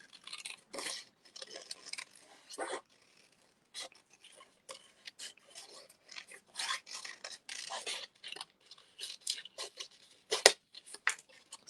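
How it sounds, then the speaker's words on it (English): Small sharp craft snips cut out card pieces with quick, repeated crisp snipping and rustling of paper, close and fairly quiet, in irregular bursts. "So you do need pretty good scissors for this task, and these snips are brilliant."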